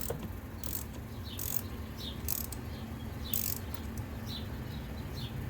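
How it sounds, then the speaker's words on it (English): A ratchet with a 10mm socket works loose the negative battery cable on a Chevrolet Sonic, giving a few short bursts of clicking that come and go over a low steady hum, with no talking. "disconnect the negative battery cable with a 10mm socket"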